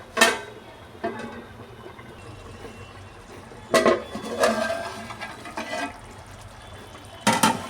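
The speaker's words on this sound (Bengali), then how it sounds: "এবার এটাকে আমি ঢাকনা দিয়ে দেবো।" A lid goes onto a cooking pan of raw banana kofta in a home kitchen. It gives a few scattered metallic clinks and clatters over a faint, steady background hiss.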